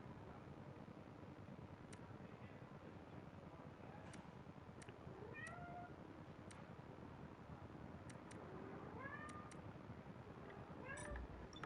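A cat at home meows repeatedly, a series of short, faint mewing calls scattered over a steady background hiss and soft ticking, fairly distant and without talk.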